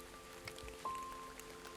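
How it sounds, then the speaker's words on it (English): Rain in the video game Paper Trail, a soft steady patter of drops on a surface with a faint tonal hum behind it, continuous and fairly quiet throughout. "I awoke to the cool touch of raindrops on my face."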